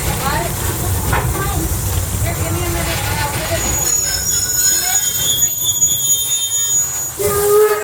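The Torch Lake no.3 Mason Bogie steam train rolls loudly along the track at Greenfield Village with a steady rumble, then its wheels squeal in long, high, shrill tones as the cars round a curve.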